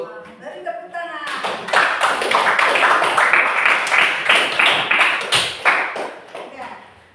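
A classroom claps hands in a sustained, loud round of applause after a student presentation, brief speech leading in before the clapping swells and then fades.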